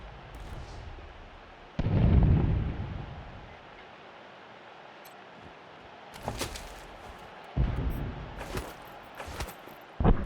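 Rocket launcher blasts in Wasteland 3: a heavy, rumbling explosion early on, then a quieter stretch and several sharper bursts and pops later, loud and close, with no talk.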